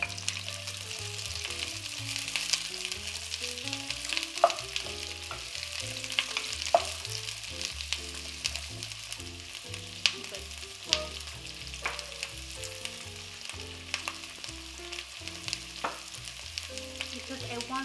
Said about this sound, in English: Now it's nice and hot. I'm adding my onion.